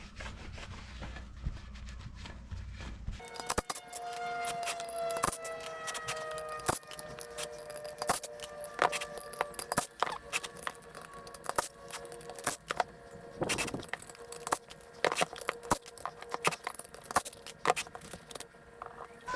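A Nissan GTR brake rotor being cleaned before its top hat is removed: steady rubbing and scraping against the metal disc, with ringing metallic tones and scattered clinks, continuing for most of the stretch after a quiet start.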